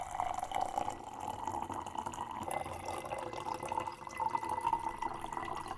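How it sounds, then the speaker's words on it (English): Water pours steadily into a glass, a close, bubbling trickle whose pitch shifts as the glass fills, with no speech over it. "You can even hear the difference between hot and cold water pouring into the same glass."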